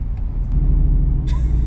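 Deep, steady exhaust rumble from a Jeep Rubicon 392 V8 with the exhaust switched to loud mode, heard from inside the cabin as a continuous close drone with a brief higher note near the end.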